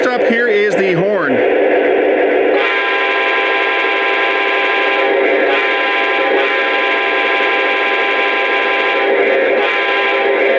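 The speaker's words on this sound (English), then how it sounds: "First up here is the horn." An Atlas Trainman Dash 8-40CW HO-scale model diesel locomotive with onboard sound, run from a Legacy remote, sounds its horn. After a brief warbling start, a loud sustained multi-tone chord blares continuously over the engine's idle rumble.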